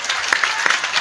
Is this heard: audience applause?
yes